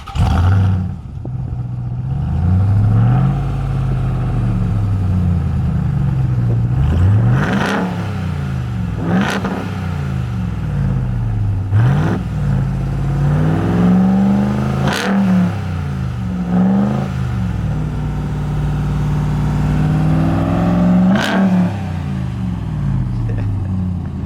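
Supercharged 2021 Ram TRX pickup with a full titanium exhaust, its engine revved repeatedly at a standstill, loud sharp climbs and falls in pitch with rumbling idle between them.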